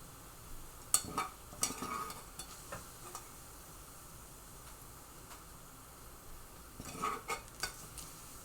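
Bacon fat sizzling in a frying pan, a soft steady hiss punctuated by scattered clinks and scrapes of a utensil against the pan, clustered near the start and end, with no talking.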